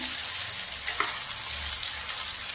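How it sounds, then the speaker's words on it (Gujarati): Chopped okra sizzles in a hot pan while being stirred, a constant close frying hiss with a light scrape partway through. "હવે આપણે અંદર સમારેલા ભીંડા નાખી દેવાના છે. સરસ મિક્સ કરી દઈશું."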